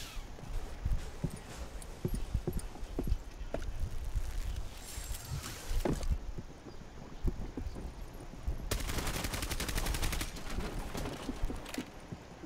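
Gunfire in a Rainbow Six Siege team deathmatch on the Skyscraper map: a long string of short, fairly quiet shots and rapid bursts crackles throughout, with a denser hissing spell of noise near the end.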